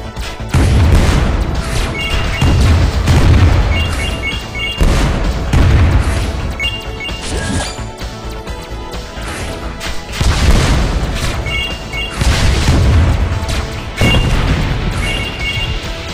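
Burning-missile explosions in the shoot-'em-up game Win Wing, a steady stream of heavy booms pounding every second or two under loud, dense game music and effects.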